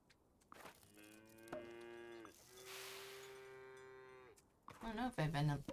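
Jersey cows in the farming game Farm Together give two long, drawn-out moos, close and clear, followed by a brief voice at the end.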